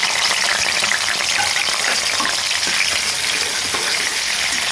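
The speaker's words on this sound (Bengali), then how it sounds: "একটু ভালো করে ভেজে নিতে হবে" Fresh river prawns fry in a pan for a radish curry, making a loud, dense, continuous sizzle and crackle close up, with no talking.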